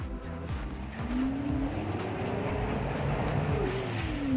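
Electric wheelchair with two 350 W motors driving fast, a steady whining motor tone rising in pitch over continuous rolling noise, loud and close throughout with no talking.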